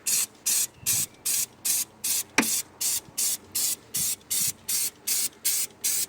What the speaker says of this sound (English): let's just get a bit of brake cleaner on there, shall we?